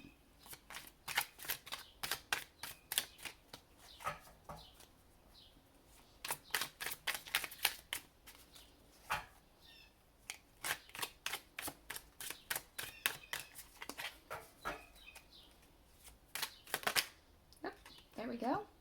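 Tarot cards are shuffled by hand in rapid, crisp riffling bursts close to the microphone, repeating in quick clusters with brief pauses over quiet background.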